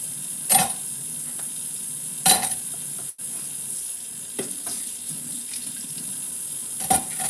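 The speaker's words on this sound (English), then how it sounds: "let me wash my hands and move this cutting board out of the way." Tap water runs steadily into a kitchen sink during handwashing, a constant close rush broken by a few sharper splashes and clunks, with no voices.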